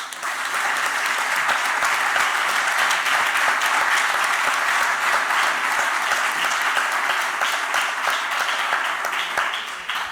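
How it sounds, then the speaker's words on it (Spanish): Sustained applause from a large crowd at a historical memory conference testimony panel, steady and dense throughout with no pauses. "Un aplauso para ella, por favor."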